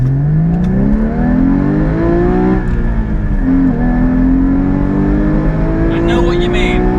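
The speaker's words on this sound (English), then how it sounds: "Let's see if we can just get some acceleration on this car." Manual Porsche sports car, a GT3 or GT4, pulling hard from first gear, its engine note climbing loudly and steadily, dipping briefly at a shift and then rising again close by throughout.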